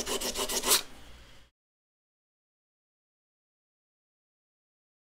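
Sandpaper rubbed quickly by hand over a rough edge of a wooden board, giving a short burst of close, rhythmic rasping strokes that stops abruptly, followed by silence.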